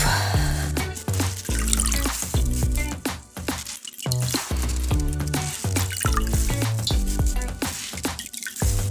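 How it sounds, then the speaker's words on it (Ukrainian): Elderflowers are squeezed by hand and the syrupy liquid drips out in a close, continuous run of wet drips and trickles. "Прям руками добре так віджимаємо"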